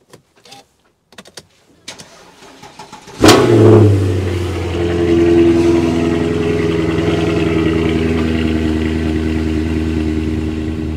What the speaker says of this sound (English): This is a proper cold start this morning.